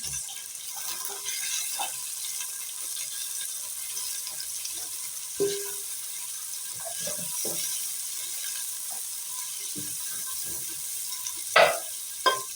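Peppers and carrots fry in a pan, a soft continuous sizzle with occasional scraping stirs and a couple of sharper knocks near the end, fairly quiet and without speech.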